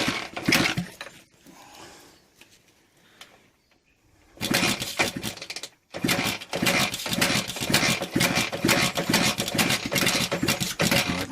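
A Honda XL 125 motorbike running with no exhaust fitted cranks and fires, drops out briefly, then catches again into a loud, raw, rapid mechanical clatter at a fast idle, close to the microphone.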